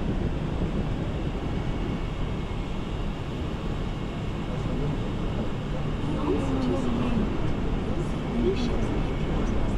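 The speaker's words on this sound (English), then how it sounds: "Quite windy." Strong wind buffeting the microphone in a continuous low rumble at the beach on Sentosa, Singapore, with faint voices in the background.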